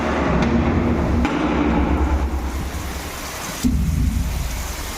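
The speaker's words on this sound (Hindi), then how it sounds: "आज मयूरभंज रे थिला हेवी रेन रेड अलर्ट तो देखि पारिबे खतरनाक वाला वर्षा चारिआडे चली।" Heavy rain pours steadily during a red-alert thunderstorm in Mayurbhanj, Odisha, a loud, dense roar with sharp cracks and low thunder rumbles breaking through.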